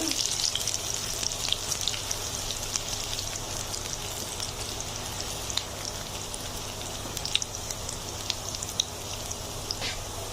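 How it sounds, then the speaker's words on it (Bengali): Chopped garlic frying in oil until reddish makes a continuous close crackling sizzle with scattered sharp pops, steady and unbroken, with no voices. "রসুন কুচিগুলো আমি একটু লালচে করে ভেজে নেব।"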